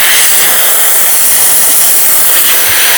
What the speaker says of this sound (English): I like to hit it with the air blower.